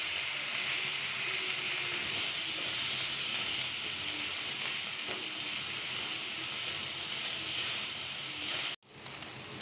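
Prawns frying in a pan for noodles, a steady, broad hissing sizzle held at an even level throughout, then a brief cut and a quieter sizzle right at the end.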